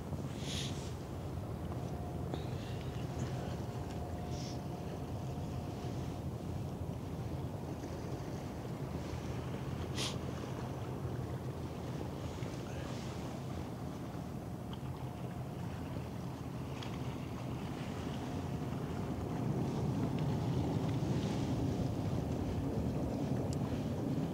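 Container ship MSC Heidi passing on the river at Finkenwerder, heard as a steady low engine rumble and water wash that swells slightly near the end, with wind noise on the microphone and no talk.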